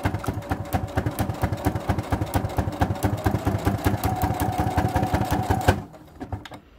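Sewing machine stitching back and forth through several layers of fabric for a mini wallet, a close, steady rapid mechanical chatter that stops abruptly near the end.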